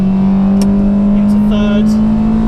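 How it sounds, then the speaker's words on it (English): Honda Del Sol engine, modified, holding a steady strong drone as VTEC engages on the upshift into second, loud and close throughout, with brief higher bursts layered over it. "There's the VTEC into second."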